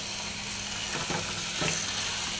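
Goat head meat with chana dal frying in a pan, a constant hiss of sizzling with a few soft scraping stirs midway.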